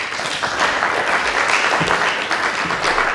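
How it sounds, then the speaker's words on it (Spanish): Audience applause at a conference in Orihuela, a dense, steady wash of many hands clapping for the full stretch, fairly loud and close, with no talk over it. "Un aplauso."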